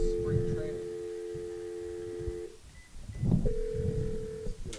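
A telephone call to a radio show guest sounds with steady dialing tones, one long tone, a short pause, then another sustained tone, over low background murmur and voices.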